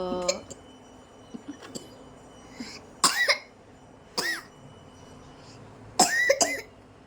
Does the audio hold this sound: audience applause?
no